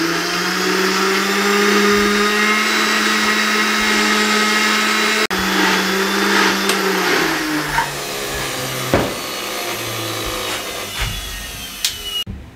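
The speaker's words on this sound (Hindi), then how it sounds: "अच्छे तरीके से हमने ग्राइंड कर लिया" An electric mixer grinder whirs loudly while grinding green coconut chutney, then slows and winds down, followed by scattered clinks and knocks as the jar settles; no speech.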